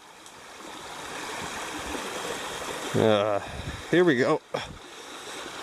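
Mountain brook rushing steadily at a hiking trail crossing in the Adirondacks, a continuous close broadband flow with someone speaking briefly over it midway.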